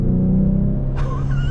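A 2024 Ford Mustang EcoBoost Premium accelerates gently from inside the cabin, a steady low engine drone that rises in pitch partway through, loud and close with no talk.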